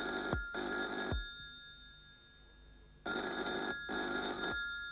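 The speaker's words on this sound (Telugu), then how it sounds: "ఫోన్ రింగ్ అవుతుంటే తీయడానికి ఒక్కడు ఉండడు." A telephone rings in two bursts of rapid bell trills separated by a pause, clear and fairly close with no one speaking.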